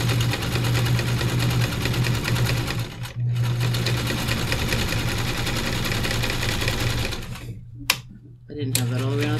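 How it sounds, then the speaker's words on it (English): A sewing machine stitches a pleated fabric face mask in steady rapid runs, pausing briefly twice, with quiet talk over the stitching. "And then sew fairly close to the end."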